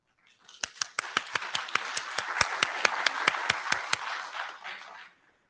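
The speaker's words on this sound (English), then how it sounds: "We should applaud." Small audience applauding at a technical meeting, a round of thanks: about twenty distinct, evenly spaced claps ring out over a steady bed of softer clapping, rising quickly and fading out after about five seconds.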